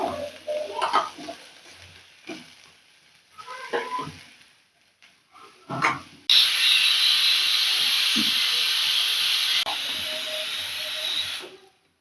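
Onions hit hot oil in a home kitchen pan and set off a sudden loud, steady hissing sizzle that runs for about five seconds before easing, following a stretch of clattering kitchen handling.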